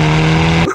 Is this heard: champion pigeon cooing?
no